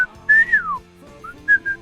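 A person whistles a song melody in short, clear, bright phrases, close and alone with no talking over it.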